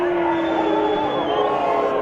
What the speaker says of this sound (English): The crowd is expressing its displeasure